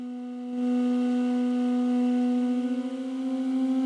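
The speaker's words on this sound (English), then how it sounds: "So it's literally just a harmonica with some reverb and lots of release on it." A soft, breathy sustained synth pad with a harmonica-like reedy tone, holding a steady chord after a short silence, smooth and washed in reverb.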